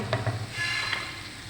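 Spiced potatoes (aloo) are stirred in a pan with masala. Scraping strokes come first, then a close, steady sizzle that settles as the stirring stops.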